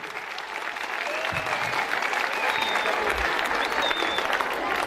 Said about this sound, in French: Applaudissez bien Monsieur Adel Mazbri.